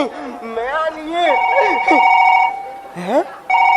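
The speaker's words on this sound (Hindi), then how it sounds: "मेरे मोबाइल में फोन" A mobile phone rings with a melodic electronic tone that repeats in bursts, overlapping with people talking nearby.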